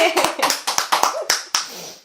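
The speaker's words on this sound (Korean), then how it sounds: "일단 박수 한번 쳐주세요" About eight sharp hand claps in a quick, steady rhythm, close and fairly loud, with a brief ring after the last one.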